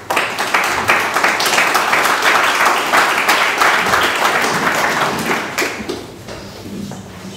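A lecture audience at a Glasgow exhibition applauds speaker Samantha with loud, dense clapping for about six seconds, then the applause thins out and fades away.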